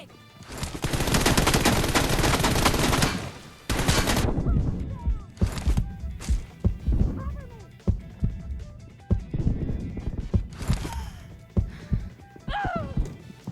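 PUBG Mobile gunfire: a long, loud burst of rapid automatic fire, then a second short burst, followed by scattered single shots and impacts, with someone talking excitedly in between.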